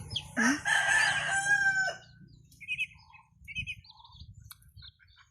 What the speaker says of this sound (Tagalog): lumabas na nga yung mga sisiw ko